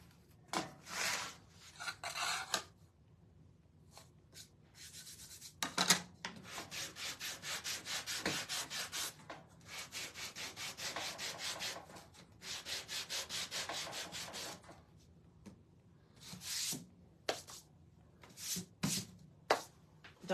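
A Gator Sander working wood in bursts of dense rasping friction, several long passes of a few seconds each with shorter strokes and pauses between, close and fairly loud with no talking.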